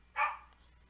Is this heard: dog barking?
yes